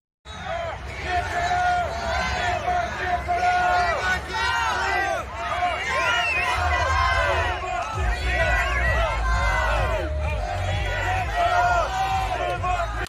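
Crowd at an anti-Trudeau protest in front of a school board in St. Catharines, Niagara region, a loud steady babble of many voices with shouting and chanting, fairly close, with a deep rumble entering partway through.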